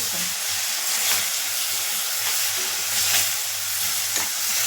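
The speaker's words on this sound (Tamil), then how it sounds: "இஞ்சி பூண்டு பேஸ்ட்டு, இந்த அரைச்சி விட்ட தக்காளி விழுது எல்லாம் போட்டு நல்லா பச்சை வாசனை போகிற வரைக்கும் நல்லா வதக்கிக்கணும்" Ginger garlic paste and tomato puree sauté in a hot pan, giving a steady close sizzle and hiss with faint stirring scrapes throughout and no talking.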